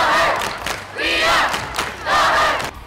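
A high school student cheering section at a winter sporting event, chanting loudly in rhythmic group shouts that rise and fall in repeated bursts.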